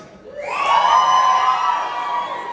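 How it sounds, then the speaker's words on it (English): A large indoor crowd at the Young Farmers Awards 2024 cheers and whoops loudly, the roar swelling quickly and holding for a couple of seconds before tapering slightly. "Give me a cheer if you're a finalist tonight."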